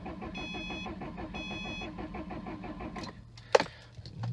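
Car engine cranking over and over without catching at a dealer auction: a rapid rhythmic starter churn for about three seconds, then it stops, leaving a low hum and a sharp click, heard up close from inside the car.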